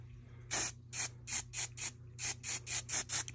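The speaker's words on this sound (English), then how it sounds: "you might need to use a little bit of hairspray to spray the hair to stay down" Hairspray from an aerosol can misted onto the yarn hair of a crocheted Frankenstein pet hat, about ten short, loud hissing bursts in a quick, uneven rhythm, close and alone with no talk.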